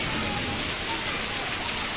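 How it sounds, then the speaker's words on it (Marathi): Heavy, unseasonal May rain pours during a windstorm in a constant, roaring wash of noise, with faint voices underneath. "मला वाटत नाही की पाऊस लवकर थांबेल"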